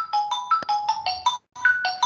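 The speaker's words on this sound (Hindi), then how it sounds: "आप ही के सर का फोन आ रहा है" A phone ringtone sounds for an incoming call during an online C++ class, a repeating electronic melody in short bursts with a brief gap before it resumes, loud and close with no talking.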